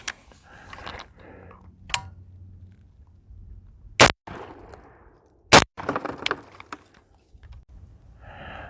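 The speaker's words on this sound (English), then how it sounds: "here's a couple of rounds for the 223, and again, these are just 55 grain ball ammo" .223 rifle firing 55 grain ball ammo into a concrete block outdoors: two sharp, loud cracks a second and a half apart, among softer clatter and handling noises.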